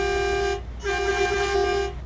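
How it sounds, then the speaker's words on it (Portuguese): An Iveco S-Way truck air horn in Euro Truck Simulator 2 blares twice, a short blast followed by a longer one, loud and brassy with no talking. "E a buzina na ar, como é que fica?"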